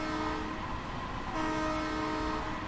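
A New York M3A commuter train sounds its horn in Train Sim World 2 on the Harlem line, a steady, sustained harmonic blast heard clearly on its own with no talking.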